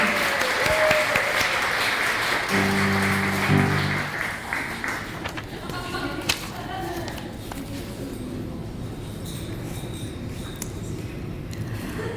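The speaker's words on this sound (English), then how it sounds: "please give our 5-6 students a round of applause and their teacher, Ms. Orahan, for the production video" A graduation ceremony audience applauds for students and their teacher, a steady wash of clapping in a hall that fades after a few seconds, with a voice speaking over it.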